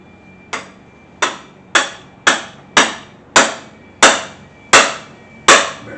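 A hammer taps a bearing out in nine sharp, evenly spaced metallic strikes, close and loud, each with a short ringing decay and no talk between them.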